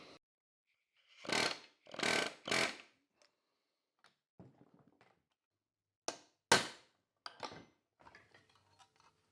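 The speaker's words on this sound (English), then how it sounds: "If I put this on my vise here and hit it with an air hammer" Several short bursts of loud, rapid air-hammer hammering on a metal Porsche 356 window regulator part held in a vise, with pauses between, then a few sharper blows and light clanks.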